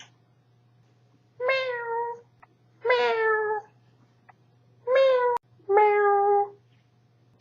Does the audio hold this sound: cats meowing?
yes